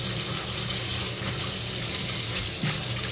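Taro leaves being rinsed clean under a running kitchen tap, a steady close splash of flowing water that continues without a break and without voices.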